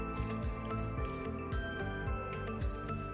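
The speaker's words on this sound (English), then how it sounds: "We'll add more water." Water added to a thin flour batter for a dough-free paratha, mixed in with soft wet squishing and dripping sounds, quiet and close, repeating in a loose rhythm.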